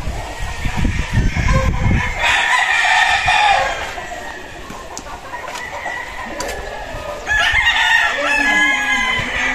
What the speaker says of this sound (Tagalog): nakikita nyo na yung manukan ni Boss Sunny Lagoon